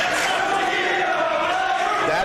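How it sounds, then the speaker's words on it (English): A dense crowd at an independent wrestling show roars and jeers without a break, a loud and steady wash of many voices with shouts rising out of it. "And you hear the crowd telling them just how they feel about them."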